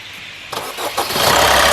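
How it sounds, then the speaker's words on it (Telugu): A 2016 Maruti Suzuki Ciaz ZDI diesel engine cranks with a couple of short starter bursts, then catches and settles into a rising, steady idle, fairly close. "ఇంజిన్ ఆఫ్ చేయి మళ్ళీ ఒకసారి స్టార్ట్ చేయి"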